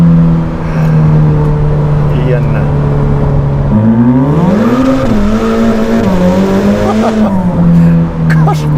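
A black Novitec Ferrari F8 N-Largo with an aftermarket exhaust drones at a steady idle, then its engine note climbs and swells as it accelerates, rising and falling through gear changes with a loud, close exhaust and a faint turbo whistle.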